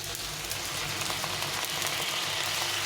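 A paste of onion, garlic, tomato and ground ginger, cumin and chili frying in hot oil for a dhaba-style ghugni, giving off a steady, dense sizzle that carries on throughout without a break.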